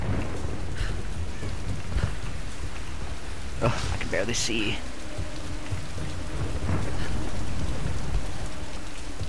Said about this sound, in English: All this crazy rain going like sideways because of these insane storms.